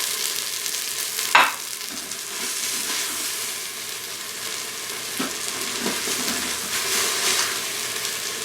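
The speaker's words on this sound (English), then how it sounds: "I'm going to simply scoot these uncooked slices over to the side" Floured steak slices for Swiss steak pushed across a hot pan, a continuous close sizzle and bubbling fry with a sharp scrape of the utensil early on and softer shuffles later, no talking.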